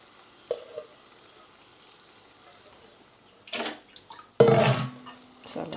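Chana dal added to a pan with ridge gourd and rice sizzles faintly at first, then bursts into louder frying and stirring clatter near the end.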